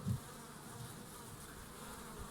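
Honey bees swarming at a beehive whose frames are full of unripe honey, giving a steady, faint, close buzzing drone with no voices.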